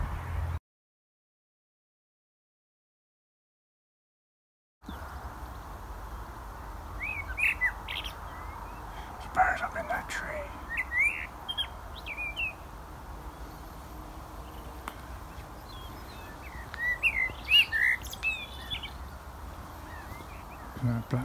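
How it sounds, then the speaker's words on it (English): A blackbird sings from a hillside trail near a blackthorn bush, its fluting phrases and chirps coming in scattered bursts at moderate distance over a soft steady outdoor hiss, after a brief stretch of silence. "Blackbird."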